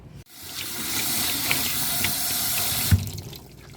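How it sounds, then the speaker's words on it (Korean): Soaked dried pumpkin rinsed under a running kitchen tap, a steady loud rush of water that starts abruptly and cuts off near the end, with a brief clunk just before it stops. "미지근한 물에 30분 불려놓은 호박입니다. 헹궈줄게요."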